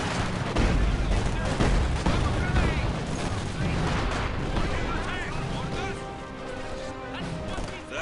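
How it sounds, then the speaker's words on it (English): Explosives going off in the World War II strategy game Company of Heroes 2, a dense run of crashing blasts, booms and gunfire rolling together loudly, then easing into a rumbling, debris-filled tail. "Detonate the explosives."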